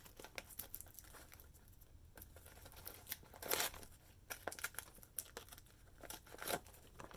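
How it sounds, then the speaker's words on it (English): Tearaway embroidery stabilizer being ripped off a monogram charm, a few short crinkly tearing bursts with soft paper rustling in between, close and fairly quiet with no talk. "since it's tearaway stabilizer, we're just going to tear it away"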